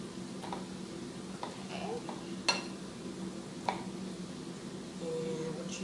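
Diced jicama stirred in a bowl with a spatula, soft scraping and scattered light clicks and taps against the bowl over a low background hum, fairly quiet.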